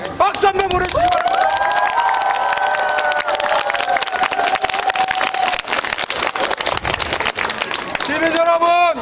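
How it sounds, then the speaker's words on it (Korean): Crowd at an outdoor Korean political campaign rally applauding and cheering in a loud, continuous roar of clapping and shouts, with a voice over a loudspeaker and some whistle-like tones at the start and end. "동의하시면 박수 한번 보내주시기 바랍니다"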